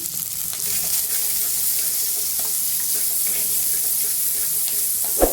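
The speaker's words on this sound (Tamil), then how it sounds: "இப்போ வெங்காயம் வதங்குறதுக்கு ஒரு பிஞ்சளவுக்கு உப்பு சேர்த்து நல்லா வதக்கிக்குவோம்" Onions sauté with a pinch of salt in a pan, a steady close hiss of frying throughout, with faint scrapes and a small clink at the end, no talk.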